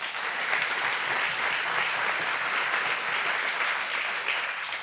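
A crowd claps steadily and evenly at a pints-and-politics gathering, a dense, uniform wash of applause that stays loud throughout with no talk over it.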